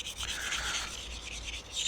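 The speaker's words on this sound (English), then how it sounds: "I'm sanding off the minimal saw marks that are left behind" A soft, close rubbing sound of sandpaper worked back and forth over acrylic, removing saw marks, continuous and fairly quiet.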